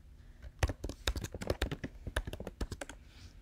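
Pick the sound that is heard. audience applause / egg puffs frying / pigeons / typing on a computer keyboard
typing on a computer keyboard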